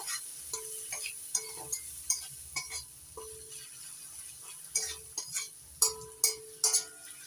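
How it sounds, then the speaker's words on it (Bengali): Tomato and spice masala, with chopped tomato and turmeric, frying in a pan for a tilapia curry, stirred with a spoon in quick scraping bursts over a soft steady sizzle at a moderate, close distance. "টমেটো কুচি, এবার একটু কষিয়ে নিচ্ছি।"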